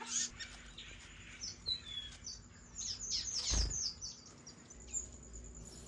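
Aviary birds chirping and tweeting while a mother bird feeds chicks and builds a new nest; repeated short high chirps at moderate distance, with one louder call near the middle, over a steady low background hum.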